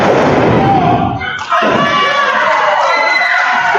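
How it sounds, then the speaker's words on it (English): Crowd at a wrestling championship match cheering and shouting loudly, with a sharp thud partway through and a commentator's voice mixed into the roar. "the crowd's going berserk"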